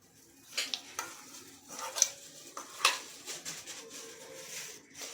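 Spoon stirring and mixing bajra (millet) flour dough with washed fenugreek leaves and green coriander in a bowl, soft scraping and irregular knocks against the vessel, close and fairly quiet, no talking.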